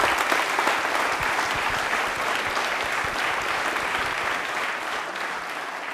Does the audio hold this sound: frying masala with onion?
no